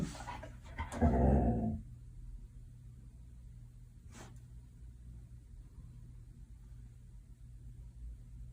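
A dog growls low at something in a bathroom, one short rumbling burst early on, then near quiet with a faint background hum and a single brief click.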